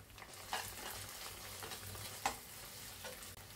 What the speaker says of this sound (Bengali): আমার মশলাটা তেলে ভাজা ভাজা হয়ে গেছে